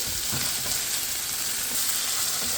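Saltfish and ackee sizzle steadily in a hot pan, a close, continuous crackling hiss with faint stirring scrapes and no voices.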